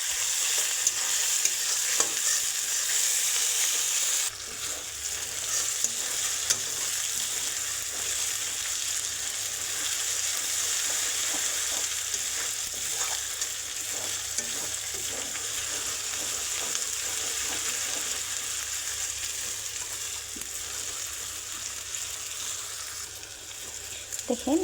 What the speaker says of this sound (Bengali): এটা অল্প বাদামি কালার করে ভাজা নিব।